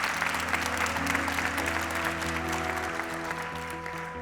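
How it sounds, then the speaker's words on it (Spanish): Theatre audience filling the Círculo de Bellas Artes in Madrid applauds a live podcast show, sustained clapping heard somewhat distantly under a steady musical or tonal hum, fading slightly toward the end. "A ver ese aplauso, que se oiga lo numerosa que es la familia de Pausa"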